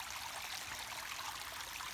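Water running steadily over a driveway spillway, a continuous close-up rush and trickle with no pauses and no voices.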